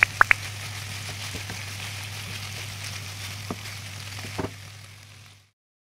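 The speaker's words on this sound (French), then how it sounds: "J'ajoute ensuite la tomate concentrée et je laisse mijoter le tout." A tomato paste sauce simmers in a pan with a steady, close sizzling hiss and a few faint clicks, then fades out at the end.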